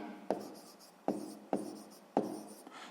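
Pen strokes on notebook paper while working a sixth-grade maths exercise, four distinct scratchy bursts spaced about a second apart, close and quiet, with no talking.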